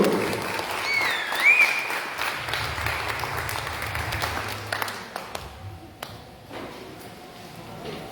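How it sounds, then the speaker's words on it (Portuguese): A church congregation claps loudly and steadily at a service, a dense, full-room applause that thins out and fades over the last few seconds. "Aplauda mais forte o Senhor Jesus"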